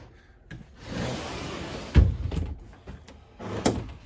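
A latch clicks and a sliding door rolls open inside a 2022 Avenger 27DBS travel trailer, with a brief rumbling glide followed by a sharp knock and another clack near the end, heard close and alone.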